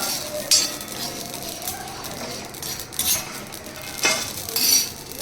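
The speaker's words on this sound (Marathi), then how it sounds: "आणि या आता खसखस अशा प्रकारे अख्खो असं सगळं तव्यात गेलेलो आता भाजता" Poppy seeds and whole spices roast on a griddle (tava) for Malvani masala, a soft crackling sizzle broken by scraping stirs and light metallic clinks, close and moderate in level.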